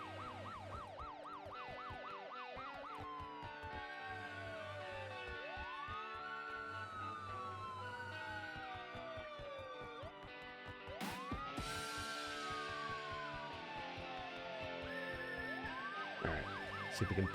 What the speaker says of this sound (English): Hearing the constant siren too definitely puts on some pressure.